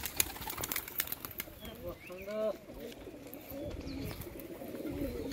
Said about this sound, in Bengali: পায়রাগুলো দেখুন